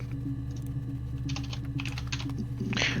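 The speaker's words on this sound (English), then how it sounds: "I'm very bad at typing right now, too." Fast clacking keystrokes on a computer keyboard, scattered taps in uneven bursts over a low steady hum, close and moderately loud, with no one speaking.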